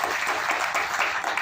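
Loud audience applause at a stage event in Keonjhar, with dense, continuous clapping filling the whole short moment and no voices rising above it.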